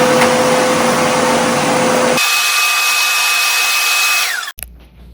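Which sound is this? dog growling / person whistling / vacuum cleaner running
vacuum cleaner running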